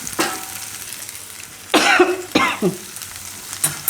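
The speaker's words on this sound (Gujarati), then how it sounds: "આ રીતે આપણે મિક્સ કરીને થોડીક વાર ફેરવી લેવાનું" A methi and corn curry being stirred and turned in a pan, with bursts of scraping and sizzling in irregular strokes, close and fairly loud, alone without talk.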